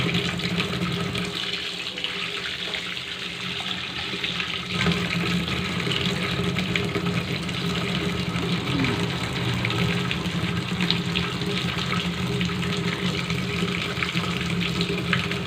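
Water pours and gurgles steadily down a freshly unclogged kitchen sink drain, a loud continuous rushing flow with no pauses.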